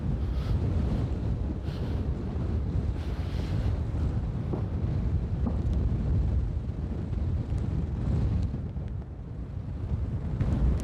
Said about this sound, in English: Oh, that's a strong gust of wind.